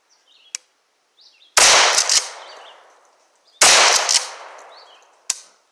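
Two loud shotgun blasts from a Remington 870 pump-action ring out about two seconds apart outdoors, each a sharp crack with a long decaying echo, separated by quieter mechanical clicks and a brief metallic snap near the end.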